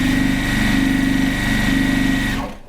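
A sewing machine stitches two quilt strips together for a split rail fence block, running at a steady fast whir with a fine rhythmic chatter, close and loud, then stopping abruptly near the end.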